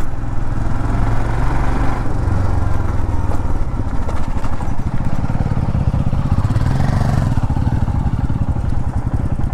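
Old Royal Enfield Himalayan 411 motorcycle engine running steadily and loudly up close, a continuous thumping mid-range drone with mechanical clatter throughout and no talk.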